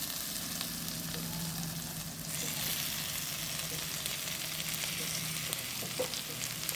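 Fish fries in a pan at home in an Indian kitchen, giving a steady, soft hiss of sizzling oil with faint crackles and occasional stirring, no voices.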